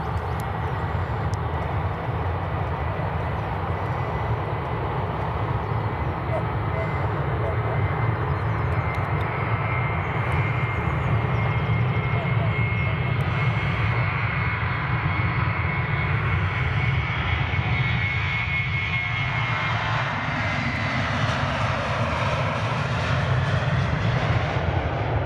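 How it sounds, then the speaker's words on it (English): A KLM airliner takes off at Edinburgh Airport, its jet engines holding a steady, loud roar for the full length, swelling gradually as the aircraft accelerates down the runway and climbs away. "Right, there's a KLM just lined up."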